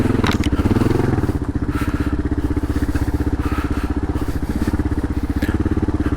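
Kawasaki KLR650 motorcycle ridden off-road on an adventure trail, with a loud, steady engine drone and rapid throttle pulsing up close, plus thumps and clatter from the rough ground.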